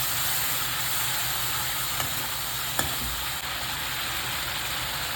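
Fish being stirred with meat masala and red chilli in a hot pan gives a steady, close sizzling hiss with soft scraping of the stirring and a couple of brief clicks, with no talking.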